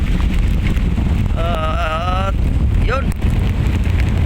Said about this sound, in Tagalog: Sobrang lakas po ng hangin dito sa Manila Bay